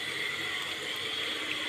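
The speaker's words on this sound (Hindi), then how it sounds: "और ये झरना" A waterfall among decorative plants gives off a steady, even rushing hiss at moderate distance, continuous and fairly soft, with no voices.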